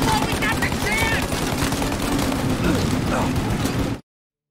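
Enemy machine guns keep up heavy, rapid fire in Mafia Definitive Edition, loud and close, with shouting voices over the bursts before the sound cuts off abruptly.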